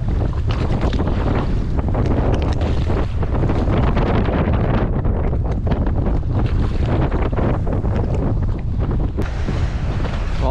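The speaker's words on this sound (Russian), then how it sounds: "Волна, конечно, сегодня хорошая." Strong wind buffets the microphone with a constant roar, and rough Barents Sea water surges and splashes heavily around a fishing boat.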